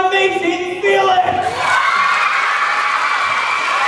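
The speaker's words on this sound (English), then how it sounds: "Let's give a round of applause for the amazing Felix." A live stage-magic audience bursts into applause and cheering for a magician, with a steady wash of clapping and whoops that keeps going loudly, and a speaking voice overlaps the start.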